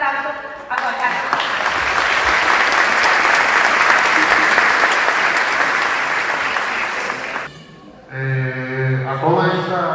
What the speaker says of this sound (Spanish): Vamos a darle un fuerte aplauso a Juan Carlos.